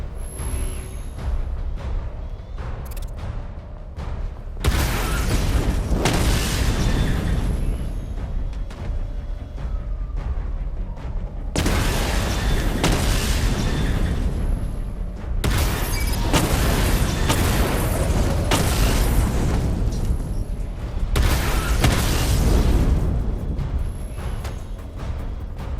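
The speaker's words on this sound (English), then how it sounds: "Charge the missile barrage to level 2 to destroy up to 4 targets at once." Missile barrage explosions in Batman: Arkham Knight: heavy, loud booms and rumbling blasts that arrive in several dense bursts, with crackling debris and mechanical whirs between waves and no talk.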